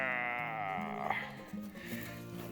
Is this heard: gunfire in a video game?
no